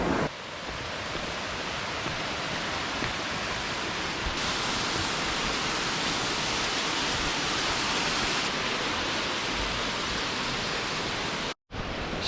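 Booloumba Creek in Conondale National Park rushes heavily, a dense, loud and unbroken roar of flowing water close by, with no voices, cutting out briefly near the end.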